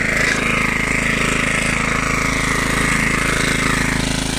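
A 1976 Hayterette rotary lawnmower's engine runs while mowing, close and loud, a constant rapid buzzing chatter that never lets up.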